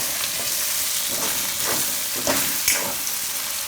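Spiced eggplant curry with yogurt being stirred in a hot pan, with a continuous sizzle broken by several scraping strokes of a spoon, close and fairly loud.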